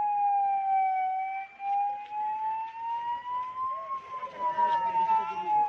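An ambulance siren wails in a steady rising and falling tone, loud and close as it moves along a road, with faint traffic and crowd noise behind it.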